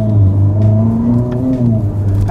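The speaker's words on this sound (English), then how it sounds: "Ferrari turbo V8 sound we're getting used to hearing." A Ferrari turbo V8 in the most powerful road Ferrari, about 1000 hp, pulls hard in manual mode, a loud close drone that rises steadily in pitch under acceleration, with a brief flutter near the end.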